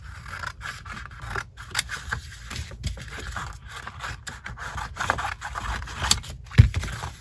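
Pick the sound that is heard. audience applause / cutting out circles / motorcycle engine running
cutting out circles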